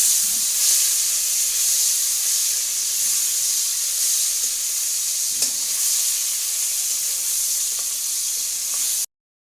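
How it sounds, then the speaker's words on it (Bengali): Fish fat coated in salt and turmeric fries in a pan with a steady, close sizzle and hiss that runs unbroken until it cuts off abruptly at the end. "মাছের তেল ভাজা হয়ে গেছে, উঠায় নেব।"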